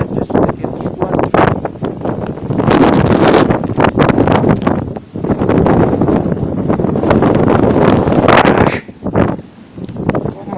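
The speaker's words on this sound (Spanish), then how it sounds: "Como sopla aquí arriba." Strong gusting wind buffets the microphone on a mountaintop at around 700 metres altitude, a loud, rough, continuous roar that surges and drops in waves, with brief lulls between blasts.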